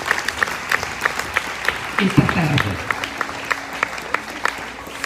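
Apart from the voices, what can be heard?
applause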